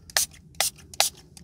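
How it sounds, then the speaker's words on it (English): Three quick hissing sprays from a spray bottle used while applying screen protection film, evenly spaced, close and crisp, followed by the start of a fourth. "now we'll go ahead and spray it again"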